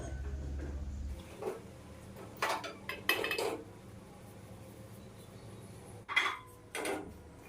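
Ragi flour is roasted in a pan with a few scattered metallic clinks and scrapes of a utensil against the pan over a quiet background.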